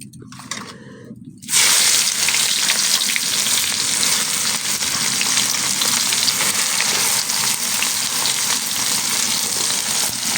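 Chicken pieces hit hot oil and foaming caramelized sugar in a wok. After a quiet start, a sudden loud burst of sizzling and crackling takes over and holds steadily to the end.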